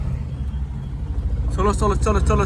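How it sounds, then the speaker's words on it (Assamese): Cars and other motor vehicles pass on a road with a steady low rumble, and someone talks over the traffic noise. "ইমান গাড়ী মটৰ অহা যোৱা কৰি থাকে চাওকচোন"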